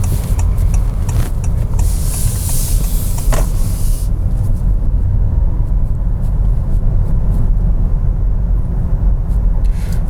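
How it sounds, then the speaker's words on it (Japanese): A Honda Clarity plug-in hybrid accelerates through town. Loud, continuous road and motor noise fills the clip, with extra hiss in the opening seconds. "今街中としてはそこそこ速い加速しましたけど"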